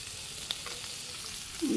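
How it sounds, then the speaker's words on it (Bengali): Onion and a few green chilies hit bitter gourd frying in a pan on an outdoor rooftop, a steady low sizzle with a small clink near the start. "করলা ভাজি প্রায় হয়ে গেছে, এখানে পেঁয়াজ দিয়ে দিই, কাঁচামরিচ, কয়েকটা কাঁচামরিচ"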